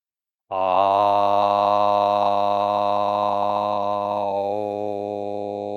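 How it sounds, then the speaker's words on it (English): A single chant of Om at the start of a morning yoga practice: one steady, resonant voiced drone that begins abruptly and holds loud and even for about five seconds, with no other sounds. "We'll start the practice today with a single chant of Om."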